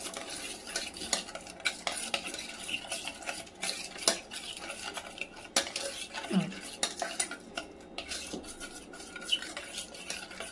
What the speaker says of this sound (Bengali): এই যে ব্যাটারটা পুরো এই যে চামচে করে মিক্স করে নিচ্ছে।